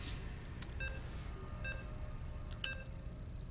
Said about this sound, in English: And the beeping happens.